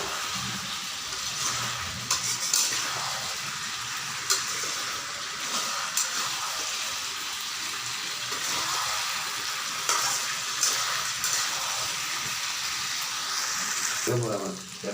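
Chicken feet being sautéed in a pan over raised gas heat, a steady sizzle broken by intermittent stirring clanks and scrapes, with faint background voices.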